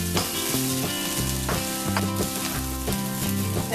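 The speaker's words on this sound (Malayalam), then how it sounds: "ഇനി ഇത് നന്നായിട്ട് ഒന്ന് മിക്സ് ചെയ്ത് യോജിപ്പിച്ചെടുക്കണം" Vegetable fried rice with spring onion is stirred and tossed in a hot pan, with steady close sizzling and repeated scraping strokes in an even rhythm, no voices.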